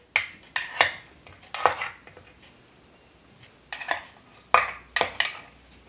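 Gluten-free hot cross buns lifted one by one from a greased metal baking pan, giving a series of sharp, close clinks and scrapes of metal in irregular bursts with short quiet gaps, no voices.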